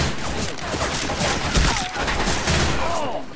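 Rapid bursts of gunfire in the Left 4 Dead 2 Cold Stream campaign, dense and loud, with overlapping shots crackling continuously across a few seconds.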